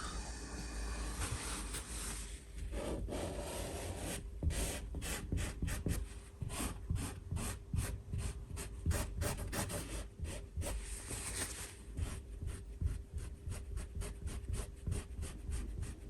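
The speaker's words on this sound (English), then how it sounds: "I'm going to remove the excess so that it's just really sitting in that small indented area." Excess filler being scraped and rubbed off the surface of a painting under restoration, a steady dry rasping friction with rapid repeated strokes, close up and continuous, no talk.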